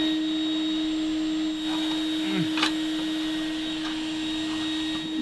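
A bee vacuum runs steadily while sucking up bees from a wild hive on a house, giving a continuous motor hum with faint buzzing and brief rustles over it.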